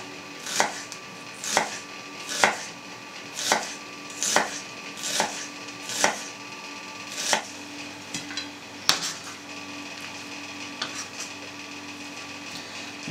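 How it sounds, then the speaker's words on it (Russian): A knife slices onion into thin half-rings on a cutting board, giving about eight regular crisp chops roughly one per second, then a few lighter taps and quieter handling. "Лук порежем тонкими полукольцами."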